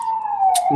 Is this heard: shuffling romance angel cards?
no